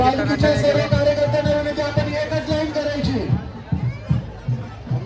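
Dense crowd of pilgrims at the Ekvira Aai palkhi procession, a steady babble of many voices close around, with louder nearby talking on top throughout.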